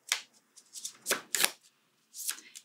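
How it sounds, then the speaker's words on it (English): Tarot cards shuffled up close in quick riffling bursts, with short pauses between each run of shuffles. "You can simply shuffle forward, or you can also move backward."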